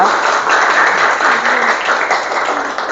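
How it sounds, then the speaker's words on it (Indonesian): Students applauding in a classroom after a group presentation, steady, dense clapping from many hands at close range, sustained throughout with no talk. "berikan tepuk tangan dulu untuk kelompok 2"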